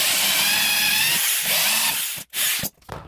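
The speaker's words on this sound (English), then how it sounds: "Now do it once again using the larger drill bit." A power drill fitted with a 6 mm bit bores through metal, a steady grinding whine that runs for about two seconds, cuts out briefly, surges again, then winds down.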